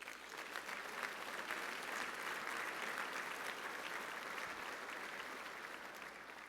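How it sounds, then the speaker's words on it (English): Awards event audience gives a steady round of applause, many hands clapping at once in a continuous wash, heard at low level and tapering slightly toward the end. "Please give them a round of applause"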